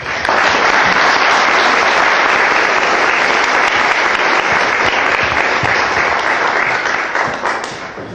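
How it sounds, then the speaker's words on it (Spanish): A large audience at an evening lecture on life after death in Arequipa gives a speaker a loud welcome, with strong, continuous clapping held for around eight seconds before it slowly fades. "Les pido un fuerte aplauso para recibirlo."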